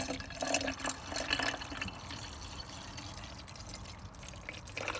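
Faint trickling and splashing of liquid being poured, a soft steady pour with small drips, fairly close and quiet.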